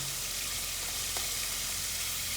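Tomato pasta sauce for spaghetti pomodoro sizzles steadily in a pan as it is stirred, a dense close frying hiss with no talk.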